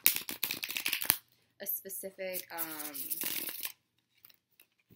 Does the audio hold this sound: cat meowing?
no